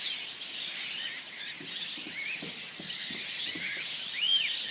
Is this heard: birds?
yes